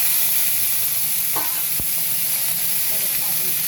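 Chicken wings sizzling steadily with browned garlic in a hot frying pan, a loud continuous hiss with a brief utensil clink partway through.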